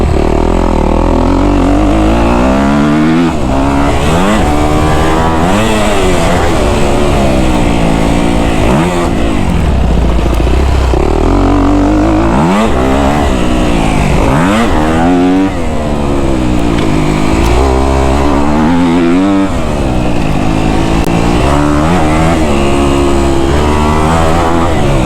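Kawasaki KX250F dirt bike engine under riding, loud and close throughout, with repeated rising and falling revs as the rider accelerates, shifts and backs off, no voices.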